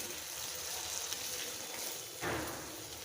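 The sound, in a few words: rohu fish wrapped in bottle gourd leaves frying in pan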